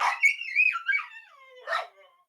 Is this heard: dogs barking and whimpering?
yes